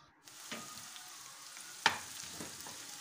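Oil heating in a frying pan gives a faint, steady sizzle with a quiet crackle and one sharp spatter pop midway.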